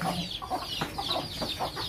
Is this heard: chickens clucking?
yes